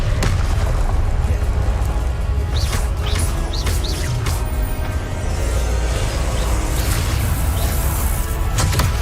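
Repeated booming blasts of the Confringo explosive spell in Hogwarts Legacy, several loud bursts with whooshing tails in quick succession over rumbling low-end noise, no talking.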